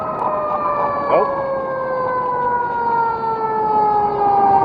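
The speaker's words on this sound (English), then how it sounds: "That's the fire engine" A fire engine siren wails in Orange County, California, a loud, steady drawn-out tone slowly falling in pitch as the truck passes nearby, with faint voice and street noise beneath.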